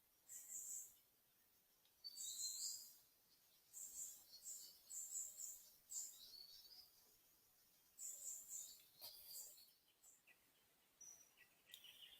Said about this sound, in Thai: น่าจะเป็นเสียงแมงเถิงทุกคนเนาะในป่าได้ยินเสียงลูกมันหอนที่มันหอนโกโกโก